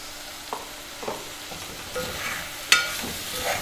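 Minced meat sizzles in a pan with yogurt and spices while being stirred, a soft steady frying hiss broken by several scraping stir strokes and clinks of a spoon.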